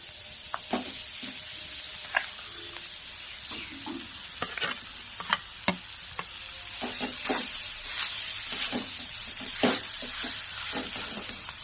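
Grated potatoes sizzle in a hot pan for a chili-and-egg potato chop, with a continuous frying hiss and irregular clicks and scrapes of a spatula stirring them, close up and without talk.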